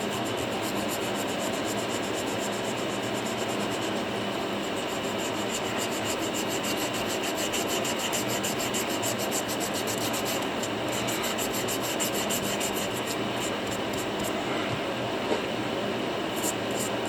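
A fossil sand dollar echinoid is rubbed against the grit of a multi-block polishing block in a steady, continuous rasping scrape that stays even in pace and loudness throughout, with no talking over it.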